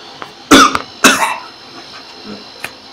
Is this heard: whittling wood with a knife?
no